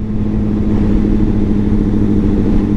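A motorcycle riding on a highway sends a loud, steady engine drone mixed with wind roar, constant for the whole stretch with no speech.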